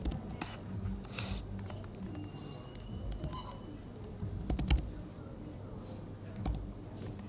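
Fingers tap out an email address on a computer keyboard, a run of light, irregular clicks over a low room murmur, with a couple of sharper key strikes standing out midway.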